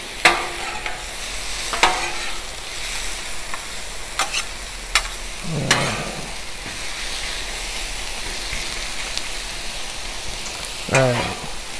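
Shrimp stir-fry with butter cooking on a 36-inch Blackstone griddle, steady loud sizzle throughout with occasional sharp metallic spatula clicks and scrapes, close up, no talk.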